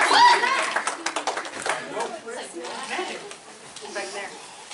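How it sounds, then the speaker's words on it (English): An audience at a magic show for a sweet sixteen party claps in a short, fairly close burst of applause that fades gradually while people talk over it. "would you all give a round of applause for my youngest son, Benjamin Murphy?"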